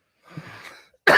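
A single harsh cough bursts out at the end after a quiet breathy moment. It is close and loud.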